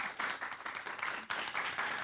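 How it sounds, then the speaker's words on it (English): Steady audience applause at an international ocean affairs forum in Taiwan, a dense wash of many hands clapping throughout, with a brief dip near the middle before it resumes. "let's give a round of applause."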